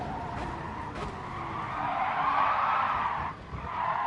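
A race car in Gran Turismo Sport brakes hard, its tires skidding and squealing for several seconds over the engine's drone.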